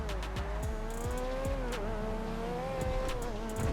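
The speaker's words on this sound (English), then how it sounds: "You've got to embrace the sound of this car. It sounds amazing." A high-revving car engine in GTA Online drones steadily with rising and falling pitch, gear changes and tire noise, loud and close, without any talking.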